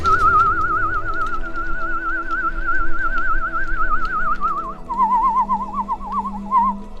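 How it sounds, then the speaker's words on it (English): A person whistles a steady, slightly warbling tone on the out-breath, holding a single pitch before dropping lower for the final seconds, alone with no talk. "So it's breathing out, whistle."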